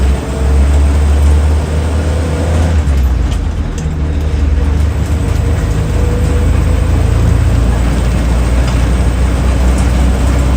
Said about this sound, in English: It's a really smooth little engine on this one, really willing, just gets on with the job.